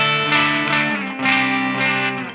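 Electric guitar played through a KingTone Rise v2 treble boost pedal with the drive knob cranked all the way up, two sustained, bright, harmonically rich chords ringing loud and alone.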